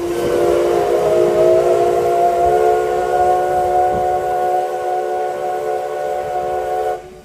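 A preserved steam locomotive in Japan sounds its whistle in one long, loud, steady chord that holds for about seven seconds before cutting off abruptly, with faint rail and engine noise underneath.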